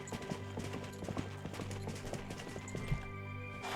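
Horse hooves clip-clop steadily in a Disney Dreamlight Valley game, a busy repeating trot under a layer of game music and ambient sound, close and fairly even in loudness.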